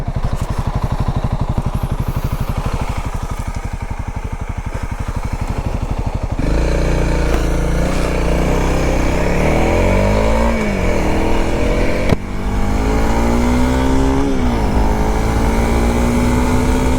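A Honda CRF300L motorcycle rides along twisty country roads. Its single-cylinder engine first drones steadily, then grows louder and revs up and down through gear changes in a close, continuous buzz.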